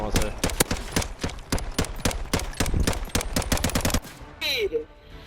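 Rapid automatic gunfire from a gun in Call of Duty: Modern Warfare, a dense, loud burst of shots firing steadily for about four seconds before cutting off into quieter game sounds.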